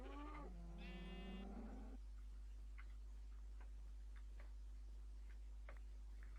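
A Minecraft sheep bleats once in a wavering, drawn-out call, followed by faint scattered ticking clicks against a quiet background.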